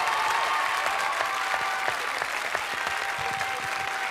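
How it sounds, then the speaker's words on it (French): An audience at a French television show applauds, dense steady clapping from a crowd that holds at an even level throughout, with no voices standing out. "Je voudrais que vous fassiez encore une fois de doubles applaudissements"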